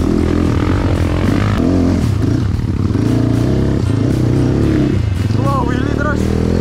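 A Kawasaki KLX230 motorcycle pulls a wheelie, its loud, steady engine drone running throughout with voices talking over it.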